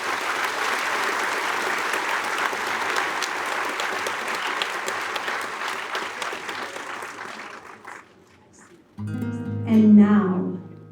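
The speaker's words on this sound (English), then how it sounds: "Please give these people all a round of applause." Steady crowd applause at an outdoor monarch butterfly release memorial event fades out over several seconds, followed by a brief pause and then voices or music starting up.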